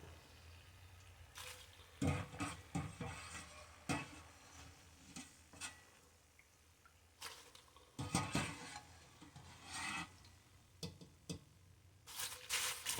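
An egg drop soup mixture is stirred in a bowl with repeated bursts of scraping and clinking, coming in irregular sets with quiet pauses between, close and fairly loud.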